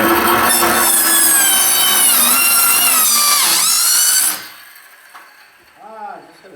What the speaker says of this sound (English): We'll have to hit the corners with a sawzall or what?